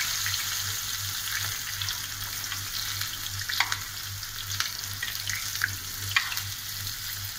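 Spiral-cut potato fries in very hot oil with a continuous loud sizzle and crackle, steady throughout with occasional sharper pops close by.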